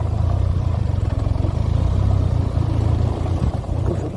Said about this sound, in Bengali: চূড়াতে আমরা বাইক চালাচ্ছি বলতে গেলে,